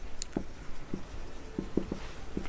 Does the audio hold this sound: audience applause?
no